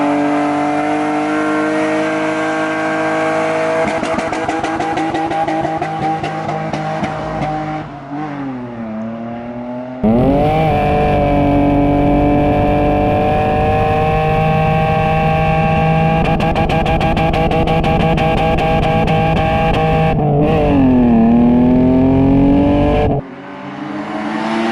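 A modified BMW E30 engine revs loudly and close by in repeated sustained pulls, the pitch holding high, dipping briefly, then climbing again, with sharp drops between bursts and no talking.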